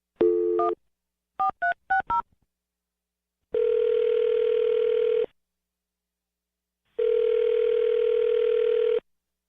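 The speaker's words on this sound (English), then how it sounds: "I'm going to dial her phone number right now." Telephone keypad tones beep in quick irregular bursts as a number is dialed, followed by two long, loud, steady ringback tones separated by silence.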